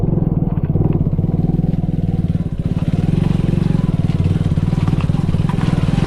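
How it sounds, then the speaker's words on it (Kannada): A motorcycle crawls up a hill in first gear during a monsoon rain ride, its engine throbbing loud and close in a fast, even pulse the whole time. "ಫುಲ್ ಕ್ರಾಲಿಂಗ್ ಗೇರಲ್ಲಿ ಹೋಗ್ತಾ ಉಂಟು ಬೈಕ್"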